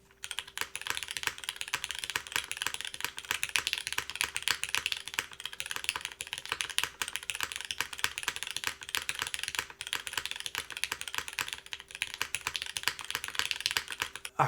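Steady typing on a Cloudline v2 mechanical keyboard in a top-mount configuration, crisp close keystrokes clattering in a quick, continuous rhythm with no voices.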